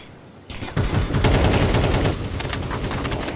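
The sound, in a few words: gunfire in Counter-Strike video game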